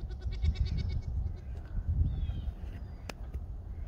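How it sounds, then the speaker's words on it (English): A farm goat bleats several times in quick succession early on, then again near the middle, fairly close amid outdoor background noise at a farm, with a brief sharp click near the end. "There goes Gwen the cow goat"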